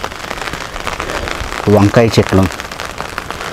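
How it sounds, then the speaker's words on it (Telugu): Continuous rain falls on a rooftop terrace garden with eggplant plants, a steady hiss of drops running throughout while someone speaks briefly over it. "నిన్నటి నుంచి అయితే గ్యాప్ ఇవ్వకుండా వర్షం పడుతూ ఉంది."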